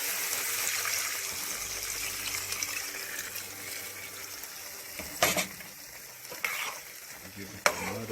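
Beef and pork curry simmers and sizzles in a pot while a spoon stirs it, with steady bubbling and a few louder scraping stirs near the end. No voices.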